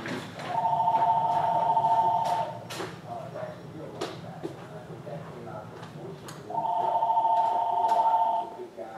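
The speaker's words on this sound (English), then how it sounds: "Let me answer the phone." A telephone rings in two long electronic trill bursts at the start and end, loud and close, with a quieter stretch of background noise and clicks between them.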